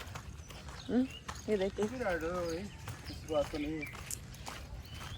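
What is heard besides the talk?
horses walking, hooves clip-clopping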